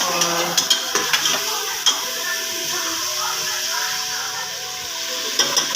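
Tomatoes go into a sizzling pan for a Pakistani daal dish and get stirred, with a few sharp metal-on-pan clinks over a steady sizzle and soft scraping.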